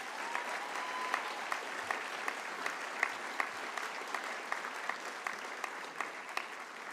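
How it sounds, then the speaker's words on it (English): Audience applause at an honors ceremony, a sustained, even crowd of clapping heard from a moderate distance, fairly quiet and without talk. "Would you give her a round of applause?"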